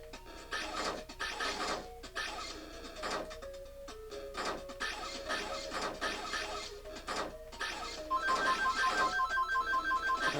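A telephone rings in the video game Arcade Paradise, a repeated electronic trill in regular bursts layered over busy arcade game music and effects, loud and continuous without speech.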